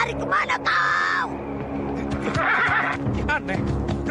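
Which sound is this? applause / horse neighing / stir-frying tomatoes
horse neighing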